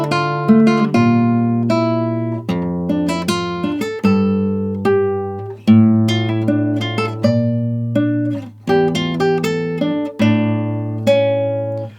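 Guitar in standard tuning plays the opening line of a piece from Metal Gear Solid 4, a fast, bright run of plucked notes and strummed chords, loud and close, with no voices.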